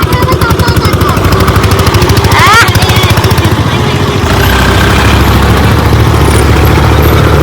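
A Sonalika tractor engine runs loud and close with a rapid, pulsing diesel chug that stays steady throughout, with people talking over it.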